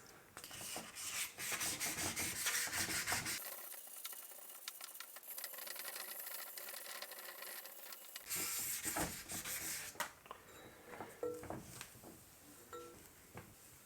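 Hand sanding of a stainless steel cat-back exhaust with 600 grit sandpaper makes a close, steady, scratchy hiss of rapid back-and-forth rubbing, briefly softer in the middle and ending in a few uneven strokes.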